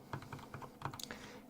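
Typing on a Logitech G710+ mechanical keyboard with Cherry MX Brown switches, a quick, steady run of close, clacky keystrokes with no talking.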